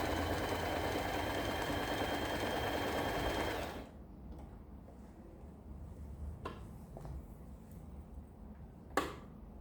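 A Janome TR2018 sewing machine stitches a piece of fabric with a steady, fast mechanical whir for nearly four seconds, then stops, leaving quiet handling clicks and taps.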